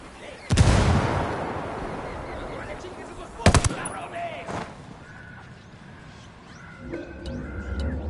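A frag grenade goes off in the Ghost Recon Wildlands game as a loud broadband blast, and a second sharp burst follows a few seconds later. The blasts sit over continuous game ambience with rumble and scattered distant gunfire.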